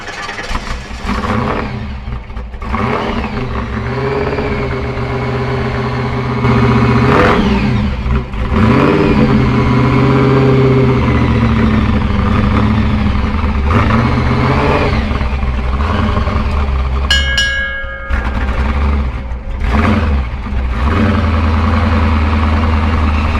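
A 1931 fire truck with a 572 cubic inch, roughly 1000 horsepower engine starts and idles, then revs repeatedly in loud, close rising and falling bursts, with a brief high-pitched squeal partway through.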